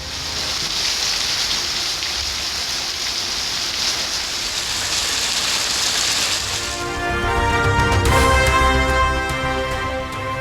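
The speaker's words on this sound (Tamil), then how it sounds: "ராமநாதபுரத்தில் அரை மணி நேரத்திற்கு மேலாக பெய்த கனமழை" Heavy rain pours steadily over Ramanathapuram, a dense continuous hiss of falling water that swells louder and rumbles lower toward the end, with no voices.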